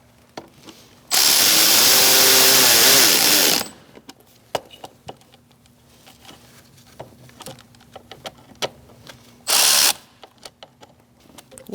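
Cordless power ratchet snugging bolts while replacing the mass air flow sensor on a 2006-2009 Audi S4 4.2L V8, with one loud whirring burst of about two and a half seconds, quiet clicks and handling noise, then a second short burst.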